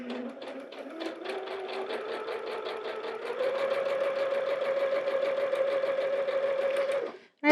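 Sewing machine running continuously over sunflower quilt pieces, a close rhythmic mechanical whir with fast needle clatter that steps up in speed partway through and then stops abruptly.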